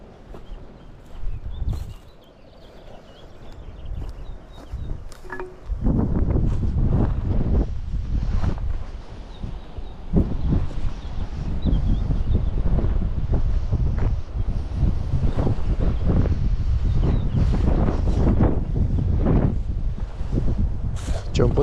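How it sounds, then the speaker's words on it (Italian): Strong outdoor wind roars and buffets the microphone almost continuously, rising after a quieter opening, with people speaking Italian at times beneath it near Sardinian rock-cut tombs. "C'è un po' di vento"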